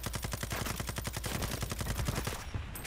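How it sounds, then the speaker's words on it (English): Rapid automatic gunfire rattles in the video game Warzone 2, a fast, even burst of about twenty shots that is loud and sustained before cutting off. "Now, pay attention to who's shooting at him."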